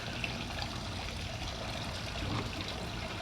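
Water flows steadily somewhere outdoors as a soft, constant wash of background noise. No voices or distinct events stand out over it.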